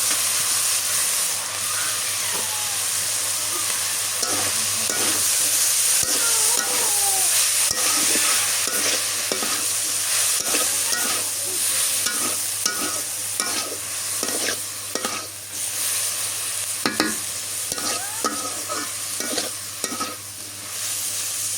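Radish greens with shrimp being sautéed in a pan in a village kitchen, a loud constant hissing sizzle with repeated spatula scrapes and knocks close by.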